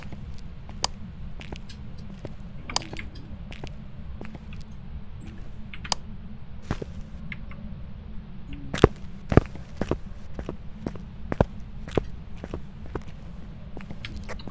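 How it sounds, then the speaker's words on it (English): Footsteps in a scary video game, a run of sharp, irregular clicking steps over a steady low hum, with a few louder thuds near the end. "I hear footsteps galore."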